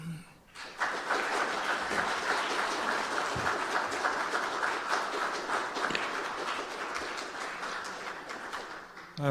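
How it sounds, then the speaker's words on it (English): Audience applause follows an academic talk on politicizing 1930s Grand Prix racing in Germany and England. Even, moderately loud clapping rises quickly and carries on for about eight seconds before stopping. "I hope you heard the applause."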